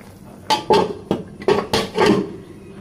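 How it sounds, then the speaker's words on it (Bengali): A metal lid clanks and rattles onto a pot of turnip and prawn curry, several sharp knocks and scrapes in quick succession, close and fairly loud. "5 মিনিটের জন্য আমি ঢাকনা দিয়ে ঢেকে রাখবো সিদ্ধ হওয়ার জন্য।"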